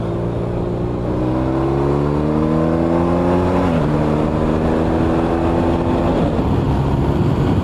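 A 2021 BMW R 1250 RT motorcycle accelerates on the road, its engine droning steadily and rising in pitch through the gears, with a brief dip at a shift and continuous wind noise, no talking.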